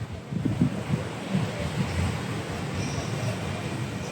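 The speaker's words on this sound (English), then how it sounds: "So this is the beach right now." Night surf on a beach under a full moon, a steady broad wash of waves with a few low rumbling surges early on, heard from nearby with wind buffeting the microphone and no talk.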